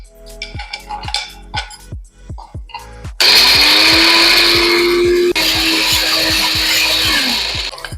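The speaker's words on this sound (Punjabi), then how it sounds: "ਹੁਣ ਆਪਾਂ ਕੱਟ ਕੇ ਗ੍ਰਾਈਂਡ ਕਰਾਂਗੇ" A few knife taps, then an electric grinder grinding a spice mixture whirs loudly for about four seconds, dipping briefly midway before winding down.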